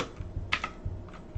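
Quiet, close typing on a computer keyboard, a short run of scattered key clicks with one sharper tap in the middle.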